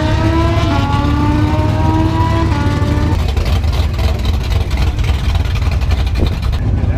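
Corvette racing down a drag strip, a loud sustained engine roar with rising revs that holds steady at close range, without any talk.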